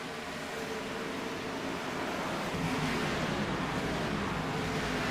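Race car engines roaring in the iRacing video game during an Xfinity Series race at Homestead, a dense, steady wash of engine noise that swells slightly louder midway, with no talk over it.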